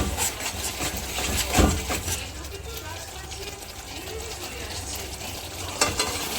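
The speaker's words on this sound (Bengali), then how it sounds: "মশলাটা একটু ভালো করে কষিয়ে নিতে হবে" Spice paste fries in oil for a drumstick and poppy-seed curry while a spoon stirs it, giving a close, continuous sizzle with scraping sounds and a few clunks of the spoon against the pan.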